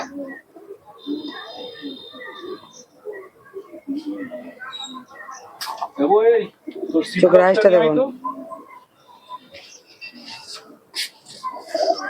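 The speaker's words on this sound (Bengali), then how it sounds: "কবুতরগুলো একসঙ্গে আছে বলে একটু মারামারি করছে" Pigeons, including Pakistani teddy and Indian breeds, coo and scuffle together in a coop, with low throaty coos and brief wing flutters, close, and a voice talking intermittently over them.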